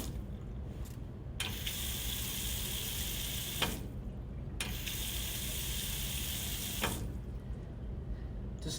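An Allura automatic touchless faucet runs water into a sink, a steady close splashing flow that starts and stops twice with brief quiet gaps between.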